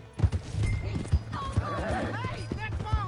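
Horse hooves thud and a horse whinnies in the video game Red Dead Redemption 2, with irregular heavy hoofbeats and a rising neigh mixed under a voice.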